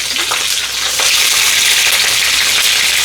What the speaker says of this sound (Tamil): கொஞ்சம் எண்ணெய் விட்டு பைத்தங்காய் தாளிக்க போகிறோம்